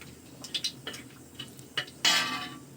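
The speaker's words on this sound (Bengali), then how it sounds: "ফোড়নটাকে আমি একটু নাড়াচাড়া করে নেব।" Dried red chillies and black cumin tempering in hot oil being stirred with a metal spoon in a pan: a few light scraping clinks, then a sharp burst of sizzle near the end, close and quiet.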